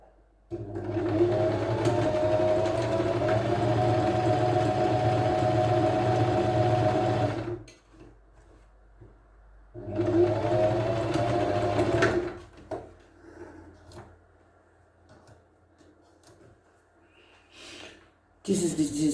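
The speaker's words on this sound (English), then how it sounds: "Now I just sew it with straight stitch now, as you can see." A sewing machine runs a straight stitch on fabric for a turtleneck top, its motor whirring loudly in two sustained runs with a pause between, then quieter handling noise.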